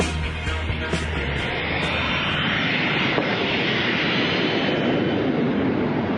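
Steady roar of a Sukhoi Su-25UTG jet trainer, the two-seat training variant of the Su-25 land-based attack aircraft, heard as a loud, continuous broadband engine rush that holds evenly throughout with no voices.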